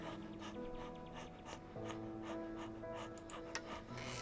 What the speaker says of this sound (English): The dog barked in agreement.